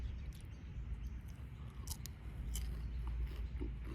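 An apple spring roll is bitten and chewed up close, with crisp crackling bites from the fried wrapper over a steady low background hum.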